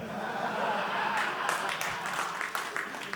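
Audience applause at a stand-up comedy concert, steady clapping from a crowd with a voice talking over it.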